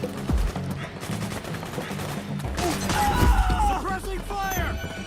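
Rapid bursts of automatic gunfire in Metal Gear Solid 4 crackle through a busy battle mix, steady and fairly loud, with voices shouting over the shooting.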